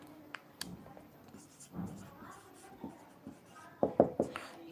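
Marker or chalk writing on a board during an algebra lesson, heard as scattered light taps and short scratchy strokes up close, ending in a quick cluster of firmer strokes.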